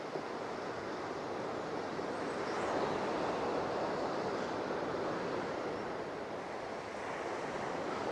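Waves wash steadily over a shingle beach below a clifftop, a faint, continuous hiss of surf mixed with wind rumble against the microphone, with no voices.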